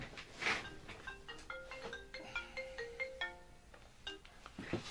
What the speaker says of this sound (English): Sorry about the phone interruption.